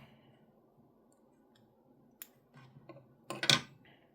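Scissors cutting the fur skin off while tying a fly lure from a salty crackers wrapper: quiet snips and clicks, with a couple of sharper cuts near the end.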